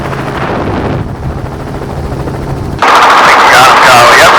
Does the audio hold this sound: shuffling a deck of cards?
no